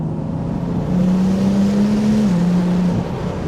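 A 700 hp single-turbo BMW M4 engine drones steadily and loudly throughout, with a low tone that climbs slightly then settles, like a smooth shift under an automatic-style gearbox.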